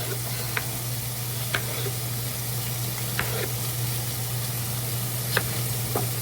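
Onion frying in a pan gives a soft, steady sizzle with a faint hum beneath, broken by a few light clicks of a utensil, quiet and close with no voices.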